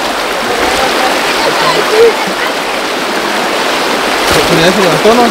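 A river stream rushes in a steady, loud, broad roar, with people shouting and talking over the constant water noise.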